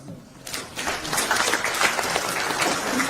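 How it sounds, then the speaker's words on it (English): Audience in a hall clapping for a young man during a political address, a dense burst of applause that starts sharply and carries on steadily at moderate volume. "Give that young man a clap."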